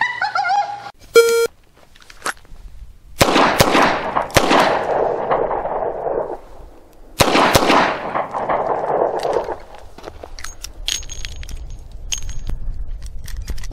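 Sharp .38 Special revolver shots crack at an outdoor range, two loud reports several seconds apart, each trailing off in a long echo, with faint clicks and handling noise around them.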